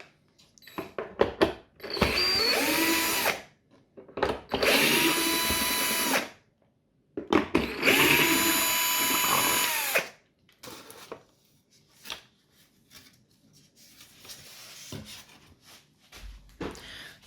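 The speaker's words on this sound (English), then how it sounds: "What I will do now is that I will just turn it upside down and now use my screwdriver." A power screwdriver removes the screws holding a 1:18 scale Porsche 911 997 model car to its box base. Three long, steady whirring bursts of a few seconds each come up close, separated by short pauses, and softer handling clicks and rubbing follow.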